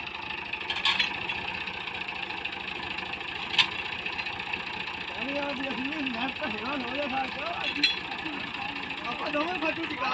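A tractor stuck in wet mud runs steadily while being towed out, its engine a continuous mid-pitched rumble with brief clanks, and people talk over it.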